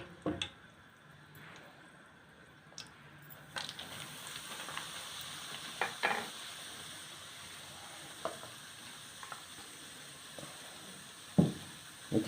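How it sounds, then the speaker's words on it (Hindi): Cardamom and semolina fry in desi ghee for semolina halwa, a soft steady sizzle with occasional sharper stirring clatters, close by and with no talk. "इसको हल्का सा फ्राई करूँगी।"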